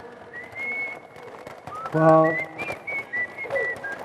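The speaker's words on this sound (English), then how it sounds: "Yeah, I can whistle." A person whistles a series of bright sustained notes, rising and sliding between pitches in short phrases, with brief talk nearby and a noisy outdoor background at a safety day camp.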